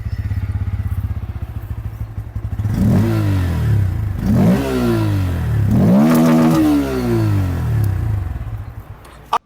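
A Bajaj Pulsar N160 with an underbelly exhaust idles with a low thrum, then is revved three times, each rise and fall loud and close before settling back to idle.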